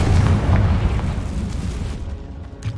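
The Confringo blasting spell detonates in the Hogwarts Legacy video game, a deep booming explosion with a rumbling low-end burst that rolls and slowly decays over a few seconds.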